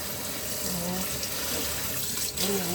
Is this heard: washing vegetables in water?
yes